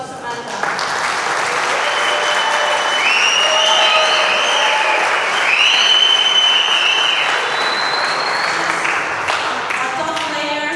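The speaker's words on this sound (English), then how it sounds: "big applause to my doubles partner and a great Mexican" Sustained audience applause fills the arena at the 2018 US Open women's pro racquetball singles final, a loud, dense wash of clapping with a few cheers and whistles rising over it, steady throughout before tapering slightly near the end.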